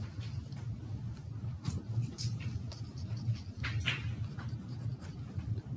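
A hand-drawn molecular orbital diagram is sketched with a pen during a chemistry review, making faint, quick scratchy strokes and taps over a low steady background hum.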